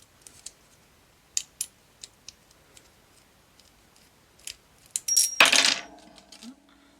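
A small tool clatters onto a hard work surface while a Zero One EDC keyboard with a PEI gamer/maze plate is taken apart, a sharp metallic impact and brief rattle after a few quiet ticks of handling.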